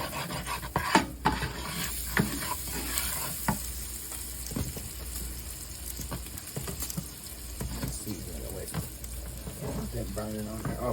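Onions cooking with sugar in a frying pan give a continuous close sizzle, with frequent utensil scrapes and taps against the pan and brief low voices in the background.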